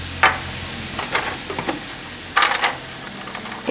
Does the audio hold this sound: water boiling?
yes